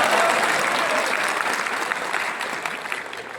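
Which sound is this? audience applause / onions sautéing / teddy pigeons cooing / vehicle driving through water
audience applause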